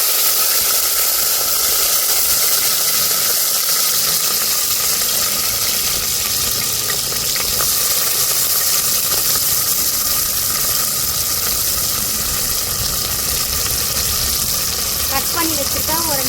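Onions frying in hot oil for a vegetable biryani, a steady, loud, dense sizzle and hiss that runs unbroken throughout, with a voice talking over it.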